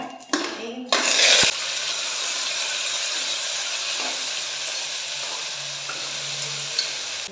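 Tempering of curry leaves, dried red chillies and garlic sizzling in a pan, a sharp burst of frying as it goes in, then a continuous hiss with scraping stirs and light metal clinks, no talking.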